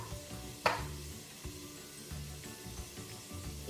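A spoon stirs food in a pan seasoned with salt, chili and oregano, with a soft sizzle and a sharp scrape near the start, then quieter stirring over a low hum.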